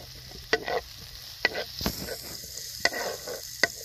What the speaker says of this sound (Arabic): غادي نشحر هاد البصيله هكا مزيان، المهم تحمر البصله